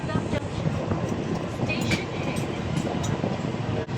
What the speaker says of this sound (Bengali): এখনও ট্রেনটা দমদম ঢোকেনি, দমদম ঢুকছে